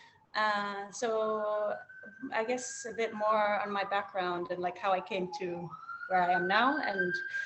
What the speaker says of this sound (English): apologies for the sirens in the back